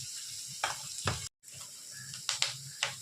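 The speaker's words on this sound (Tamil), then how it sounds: "ஒரு ரெண்டு வெங்காயத்தை எடுத்து போட்டு கொஞ்சம் நல்லா வதக்கணும் அதுக்கு தேவையான பச்சை மிளகாவையும் கூட போட்டு வதக்கணுங்க" Onions and green chillies sauté in a pan, a close, steady sizzle broken by several scraping stirs and one brief dropout, with no talking.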